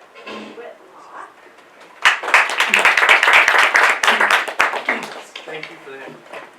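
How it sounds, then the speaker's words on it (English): Audience applause bursts in suddenly after a stretch of quieter background sound, with dense, loud clapping lasting a few seconds before thinning into scattered claps and a voice. "Thank you for that clapping."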